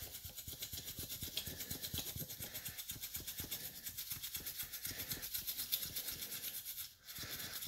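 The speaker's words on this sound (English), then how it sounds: "Let's give it a quick little rub" Steel wool rubbed briskly against an old chrome-plated plastic toy, a steady scratchy rasping with a rapid back-and-forth rhythm, close and continuous throughout with a brief pause near the end.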